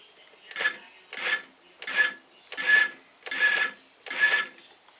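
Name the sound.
drone motors spinning up after arming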